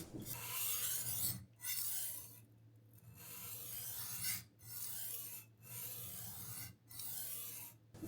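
A Kiwi knife is sharpened by hand at about 20 degrees on the coarse side of a whetstone, making close, gritty rasping strokes in a steady back-and-forth rhythm with short pauses between strokes.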